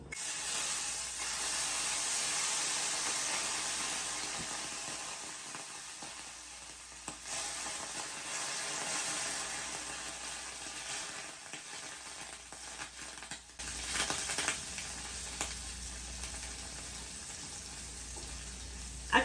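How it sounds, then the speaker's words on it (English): Butter melts in a hot skillet, sizzling and spattering steadily at close range with faint stirring and a few sharper pops toward the end. "to this nice warm skillet, or should I say hot skillet, we're going to add some butter"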